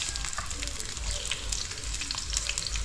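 Dried fish (tuyo) frying in a pan for dinner, a steady close crackling sizzle running throughout with faint talk in the background.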